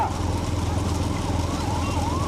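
An ambulance siren wails steadily in a rising and falling tone over a low rumbling hum at an outdoor bullock cart race in Tamil Nadu, continuous and moderately loud throughout.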